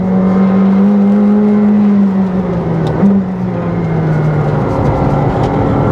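A McLaren 765LT Spider sports car accelerates gently: a loud, close engine note holds a steady pitch, dips briefly, then rises again as the revs climb.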